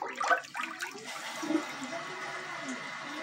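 A 1967 American Standard Luxor Vent-Away toilet with a curved rim and no rim rinse flushes nearby in a fairly quiet room. A brief clunk and gurgle open it, then a steady swirl of draining water follows.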